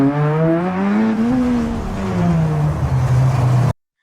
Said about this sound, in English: car engine accelerates loudly followed by tires screeching from intense braking